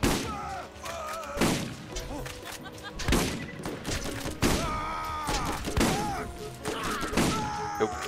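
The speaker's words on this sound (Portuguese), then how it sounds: "É que eu ouvi uns tiros assim" Rapid bursts of gunfire and thuds in the video game Borderlands repeat throughout, mixed with game effects and music-like tones, loud and busy.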